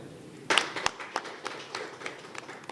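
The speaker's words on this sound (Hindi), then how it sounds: "तालियां हो जाए।" Sparse, uneven clapping from a small audience at an award show, individual sharp claps standing out against a low background hum, scattered and thinning over a few seconds.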